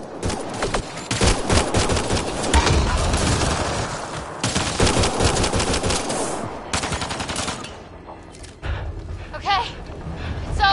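Heavy automatic gunfire in Mass Effect Andromeda, sustained loud bursts and rapid shots with booming impacts across the whole stretch, easing briefly near the end before another burst, with game voices mixed under the fire.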